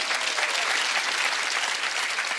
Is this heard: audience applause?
yes